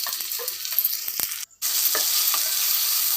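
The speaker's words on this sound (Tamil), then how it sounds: "தக்காளி நல்லா வதக்கி விடுங்க." Tomatoes and onions sizzle as they sauté in a clay pot for a Tamil chicken kuzhambu, a steady close frying hiss broken by stirring scrapes and clicks and one brief pause.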